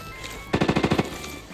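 Automatic gunfire in the shooter game Arena Breakout: a single rapid burst of about eight sharp shots, loud and close, followed by quiet.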